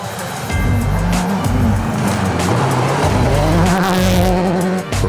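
A rally car driving a dusty stage in the dark, its engine loud and close throughout, with rising and falling revs through gear changes and some tire noise on the loose surface.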